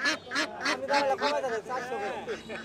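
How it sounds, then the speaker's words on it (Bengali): Domestic ducks quack in loud repeated bursts at a rural village market beside a railway line, close and busy. "আচ্ছা কাকা, এক জোড়া হাঁস নিয়ে আসছে, এক জোড়া হাঁস 1000 টাকার নিচে বিক্রি হবে না বলতেছেন।"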